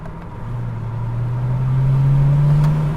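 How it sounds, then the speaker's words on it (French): A BMW diesel accelerating, its exhaust note a steady low drone that rises gradually in pitch and builds in loudness, close and continuous with no talk over it. "On va écouter un petit peu le bout d'échappement"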